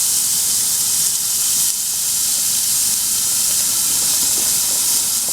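Lard rendered from pork belly sizzles in a pan at a campsite, a steady loud hiss that runs unbroken throughout with no voices.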